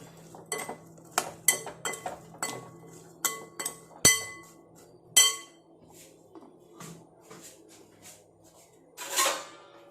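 Onion pickle being mixed with salt in a bowl: a run of sharp spoon-on-dish clinks and taps, some loud and close, spaced irregularly with quieter scraping between them, no talk.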